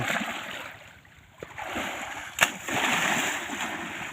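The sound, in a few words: elderly woman splashing water while bathing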